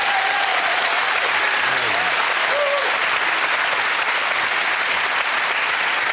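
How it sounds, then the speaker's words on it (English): A studio audience at a recording of the radio panel game Just A Minute breaks into sustained applause, a dense, steady clapping that fills the whole stretch at even loudness. "round of applause"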